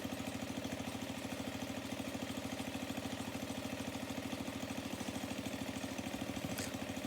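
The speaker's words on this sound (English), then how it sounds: "this thing ran perfectly. It sounds fantastic. Almost sounds like a mini Harley Davidson." A classic Craftsman snow blower's small engine runs steadily, a close, even putter of rapid regular firing pulses that holds the same rhythm throughout with nothing else over it.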